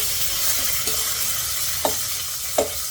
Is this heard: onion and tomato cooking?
yes